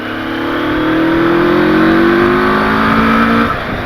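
A loud CFMOTO 650 MT motorcycle engine revs steadily upward in pitch for a few seconds on mountain curves, then eases off, close and continuous with no talking.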